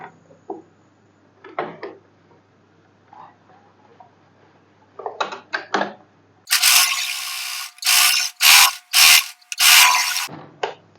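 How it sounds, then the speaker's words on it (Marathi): A sewing machine stitches blouse pieces together from bottom to top, giving several loud, close bursts of whirring stitching separated by brief pauses, after a few quieter handling clicks and taps. "खालून वर स्टिच करून घ्यायचं."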